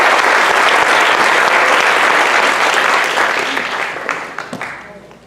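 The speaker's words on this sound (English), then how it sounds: "she really deserves a big round of applause" Loud, dense audience applause after an autism presentation, steady for several seconds before tapering off into a few scattered claps.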